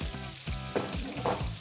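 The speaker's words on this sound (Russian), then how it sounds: "Шампиньоны добавляем на раскаленную сковородку и будем их выпаривать от влаги" Button mushrooms frying in a hot, dry pan to drive off their moisture: a steady, close crackling sizzle with small stirring bursts, no voices.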